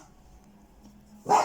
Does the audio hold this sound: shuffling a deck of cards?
no